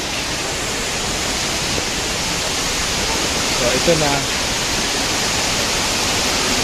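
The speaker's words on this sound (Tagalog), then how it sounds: "Naririnig ko na yung ragasan ng tubig." Broad, steady roar of rushing water from Hinulugan Taktak waterfall in Antipolo, continuous and fairly loud throughout, with someone speaking briefly over it.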